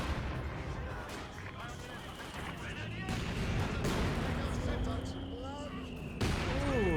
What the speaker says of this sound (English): those mortar half-tracks getting some good hits there. This barrage is coming on in